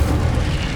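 Incendio fire spell cast in Hogwarts Legacy, a short, loud, low booming whoosh of flame lasting under a second, close and full with no voices over it.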